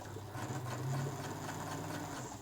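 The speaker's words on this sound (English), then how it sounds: "It's a nice amount of control on the foot controller too with this Sotric motor." A Bernina 117L sewing machine with a Sotric motor, run from the foot controller; a quiet, steady mechanical hum and whir runs close by, easing up slightly in speed partway through.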